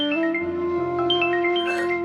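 A phone ringtone plays as an incoming call arrives in a Hindi crime drama scene, a steady electronic melody of bright repeating tones over a sustained low note, continuous for about two seconds with no talk.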